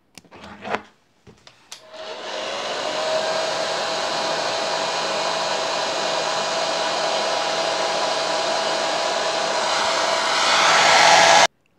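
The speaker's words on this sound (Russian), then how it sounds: "Можно посушить быстро феном, что сейчас я и сделаю" After a few clicks and knocks, a hair dryer on medium power switches on to dry decoupage glue on glass, running with a steady whirring blow, growing slightly louder near the end.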